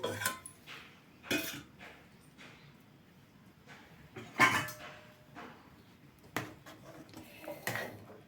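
Beans kootu kuzhambu being shifted from the cooking pot into another vessel after the stove is turned off. Sparse metallic clanks and scrapes of a ladle against steel pots, separated by quiet gaps.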